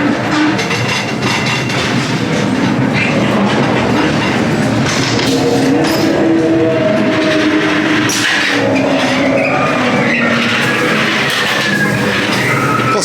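Blackpool Pleasure Beach ghost train cars rolling along their rails, a steady rumbling clatter with clickety wheel noise and occasional squealing, loud and close with no talk.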